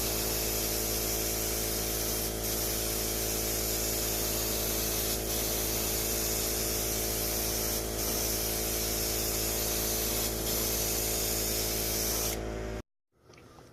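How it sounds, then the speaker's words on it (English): Aerosol spray paint hissing steadily onto an RC drift car body shell, a Pantera De Tomaso, in long continuous bursts with a few brief breaks, close and loud, ending abruptly with a short quiet tail. "Start getting your sprays closer together."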